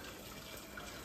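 Water running from a household tap in a home kitchen, a steady, even gush with no pauses, alone and close.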